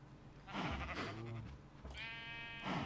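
Sheep in the video game Minecraft bleat several times in a row, their wavering calls loud and close over a steady background hum.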